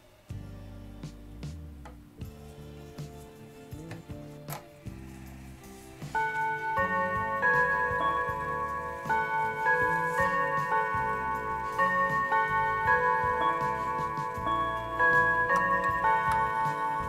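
Junghans W200 mantel clock with a Westminster chime movement, steady ticking at first, then a sustained ringing chime melody of bell-like tones building over the tick, close and clear with no talk.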